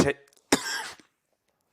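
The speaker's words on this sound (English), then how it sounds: "excuse me for the cough" A short throaty cough, then a longer harsh cough with a rough tail, close to the listener, followed by silence.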